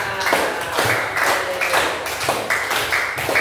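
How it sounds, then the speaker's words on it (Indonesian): Students in a classroom group clap their hands together in a lively, irregular burst of applause that carries on steadily throughout, with no voices over it. "Beri tepuk tangan untuk kita semua"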